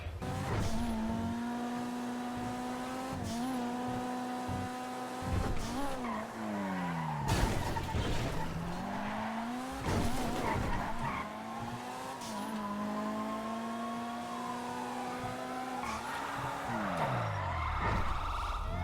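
A jeep skids again and again during a video game car chase, its engine rising and falling in whines between repeated sharp tire squeals, loud and close throughout.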